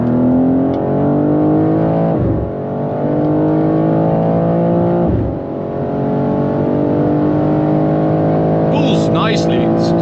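BMW M2 G87 pulls hard in third gear from low revs, the engine note rising steadily, dipping at gear changes and climbing again, loud and close inside the car.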